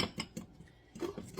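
A spoon stirs a thick PB2 peanut butter powder mixture for peanut butter chicken, making faint, rhythmic scraping strokes about every fifth of a second, with no talking.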